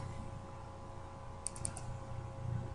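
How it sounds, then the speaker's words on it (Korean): A computer mouse double-clicked while working in editing software: a few faint, quick clicks in close succession over a low steady hum, with no talking. "그럼 내부 안으로 두 번 따닥 더블 클릭 들어가죠."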